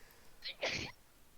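A single quick sneeze, a short sharp intake followed by a burst, fairly faint against quiet background.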